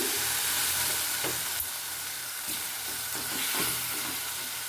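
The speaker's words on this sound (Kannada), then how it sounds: "ಇದು ನೋಡಿ ಎಣ್ಣೆ ಎಲ್ಲ ಬಿಟ್ಕೊಂಡು ಬರ್ತಾ ಇದೆ ಚೆನ್ನಾಗಿ ಹುಳಿ ಎಲ್ಲ ಬೆಂದಿದೆ" Tamarind paste for chitranna sizzles and spits steadily in hot oil, a continuous close frying hiss with a few soft stirring knocks, no voices.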